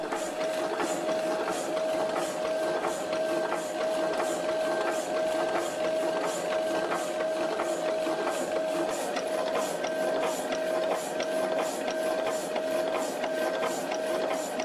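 A vintage hydraulic hacksaw cuts through metal with coolant flowing, giving a continuous, evenly pulsing stroke over a steady motor hum at constant loudness from start to finish.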